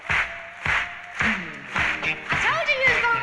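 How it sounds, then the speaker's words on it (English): At a live concert, the audience claps along in a steady beat, roughly two sharp claps per second, under singing voices. "Everybody clap your hands."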